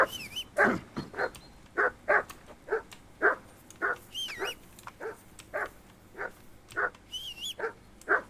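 A dog in the video game Kingdom Come Deliverance II barks steadily, about fifteen sharp, loud barks in a regular rhythm, with a few higher whining yips in between.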